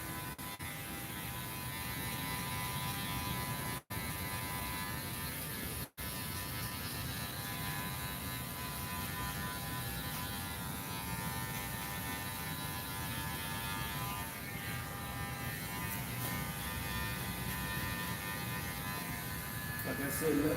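Electric hair clippers buzzing steadily during a bald fade haircut, a close, constant droning hum with two very brief dropouts, running throughout with no pauses.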